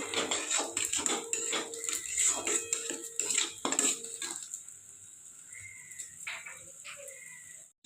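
A spatula scrapes and clatters in a pan while spices, including Kashmiri chilli powder, are stir-fried for a vegetarian pumpkin-leaf and chana dal dish. Busy, close metallic scraping fades into quieter, sparse taps.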